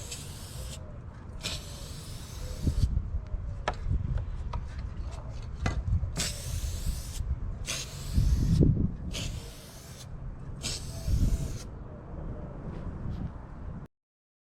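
Rust-Oleum Universal Paint is sprayed from a can onto blasted masonry coasters turning on a Lazy Susan: repeated short hissing bursts at uneven intervals, close, mixed with handling and rubbing noises.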